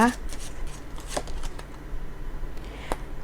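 Tarot cards shuffled close up in soft, rapid riffling bursts with a few sharper snaps, while someone talks over the sound.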